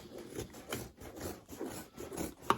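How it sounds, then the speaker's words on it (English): Fabric seam allowance being trimmed while sewing a tote bag, heard as soft repeated rubbing, rasping cuts close by at a quiet level, with one sharper snip near the end. "Then I'm going to trim down the seam allowance."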